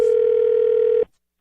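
A steady, loud telephone line tone hums during a radio prank phone call, then cuts off abruptly near the end, leaving silence.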